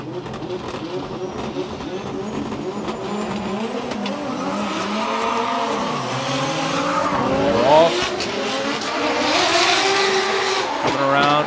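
Drift cars, a BMW M2 F22 and an S15 Sylvia, chasing at Okuibuki Motorpark in Shiga during a Formula Drift Japan round, engines roaring and revving with squealing tires, loud and continuous beneath a commentator talking.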